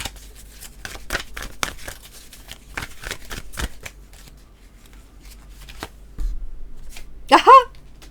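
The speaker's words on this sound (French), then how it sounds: "On va prendre une petite carte d'oracle." Oracle cards are shuffled in a rapid run of crisp riffling snaps, then a pause, a soft thud and a brief papery slide as a card is drawn from the deck, close and clear.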